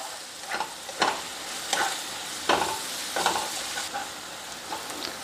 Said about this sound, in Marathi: आता त्यामध्ये आलं लसणाची पेस्ट घालायची आहे आणि पुन्हा 1 मिनिटभर मी परतून घेणार आहे।